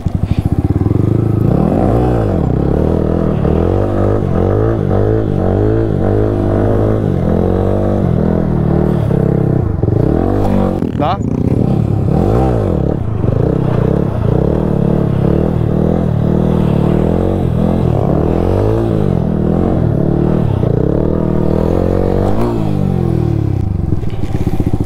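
A KTM motorcycle engine during wheelie training, revving repeatedly in rising and falling throttle blips over a constant loud idle, with wind rumble throughout.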